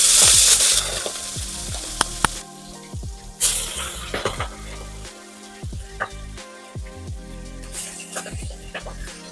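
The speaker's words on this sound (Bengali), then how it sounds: "এরপর আর কি আমরা চিংড়ি মাছগুলো এক এক করে ভেজে নেব" Golda prawns frying in oil, with bursts of bright sizzling and sharp crackles that swell and ease as pieces go in, plus occasional utensil clicks, close and fairly loud.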